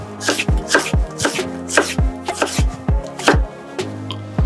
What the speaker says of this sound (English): And we're gonna slice a little bit less than 1/4 inch thick.